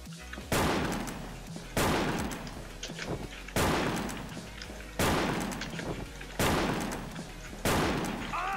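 Rapid bursts of automatic gunfire from a video game gun, five or six loud, sharp volleys each ringing out before the next, with no talking in between.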